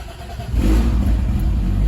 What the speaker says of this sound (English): Let's see if while it cranks and starts.